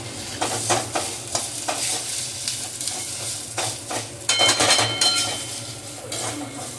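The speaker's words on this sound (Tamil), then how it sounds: "இப்போ வந்து ஒரு 2 நிமிஷம் வதக்கிட்டேன் இதை" Curry leaves and tamarind sautéing in a pan, with a steady soft sizzle and repeated scraping stirs of a spoon against the metal, plus occasional light clinks, fairly quiet and close with no talking.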